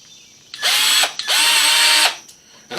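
A power drill drives a 1 1/4 inch screw in a shop in two loud close bursts, the motor whining up and winding down each time, with a brief pause between and a third burst starting at the end.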